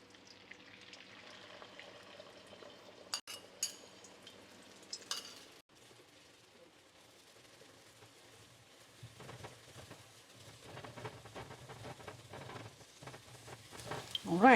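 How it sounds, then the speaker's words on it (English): An egg fries in hot oil in a wok or pan while Chinese fried rice is being made, giving a faint, steady sizzle with a few sharp utensil clinks and a busier crackle toward the end. "I'm going to use this to fry our egg"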